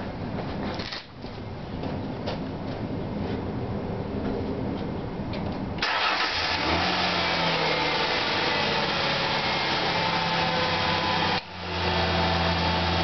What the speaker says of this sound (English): So what I'm going to do now is start the vehicle.